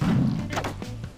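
Thuds of a super slingshot shot hitting in a video game, a few dull impacts in quick succession, close and fairly loud.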